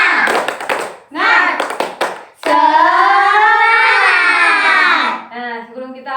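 Classroom children doing a rhythmic clapping cheer, short bursts of hand claps alternating with loud, sustained group shouting, close and busy.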